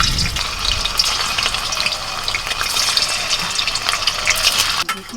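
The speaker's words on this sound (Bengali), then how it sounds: "এখন পনিরগুলো একটু হালকা করে ভেজে নেব" Paneer pieces frying in hot white oil in a large wok, a loud, dense, continuous sizzle and crackle heard up close, with a brief clatter near the end and no talking.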